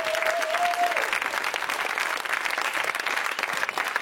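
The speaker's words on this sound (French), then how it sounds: "Applaudissements, magnifique." A studio audience applauds during a French TV comedy show, giving steady, dense clapping that fills the room throughout, with a brief whistle-like tone near the start.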